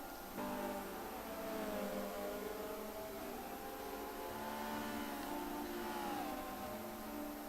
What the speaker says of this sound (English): So we watch the cars go around the track.